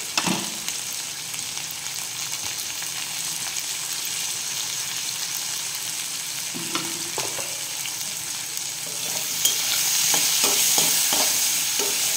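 Potatoes frying in oil with salt and turmeric, a continuous close hiss that grows louder toward the end, broken by a few spatula scrapes and clatters in the later seconds, no talk.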